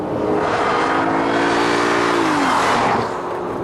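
An Audi A6 driven hard on a test track, a loud close engine holding high revs with a steady roar and a shift in pitch near the end, plus tyre noise, with no talk.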